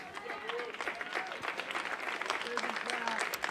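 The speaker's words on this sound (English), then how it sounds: "And a well-deserved applause for Zach Finkelstein, who pitched very well tonight." Faint, scattered applause from a small crowd at an American Legion baseball game honors a pitcher, heard distantly beneath a broadcast announcer talking.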